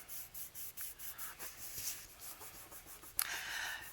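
Paper glued into a handmade journal being rubbed down by hand, a quiet rhythmic series of soft dry strokes followed by a brief sharper scrape, close and alone.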